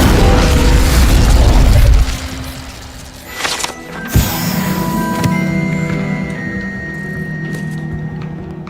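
A fire spell cast in Hogwarts Legacy bursts with a loud, dense roar that dies down after about two seconds, followed by sharp pops and a ringing, shimmering magical tail.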